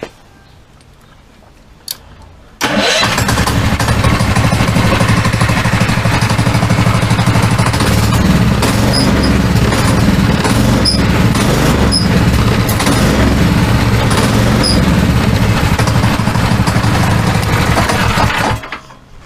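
A small homebuilt cyclekart engine, with a carburetor, runs steadily and loudly for most of the clip in a shed, giving a continuous buzzing chug with a few faint clicks over it and then cutting off near the end.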